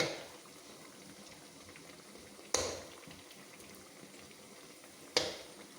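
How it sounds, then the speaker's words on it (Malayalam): Chana dal vadas bubbling in hot coconut oil, a faint continuous fizzing with two sharp spikes from something dropping or splashing in the pan. "പരിപ്പ് വട മൂത്ത് കോരി എടുത്തേക്കാം."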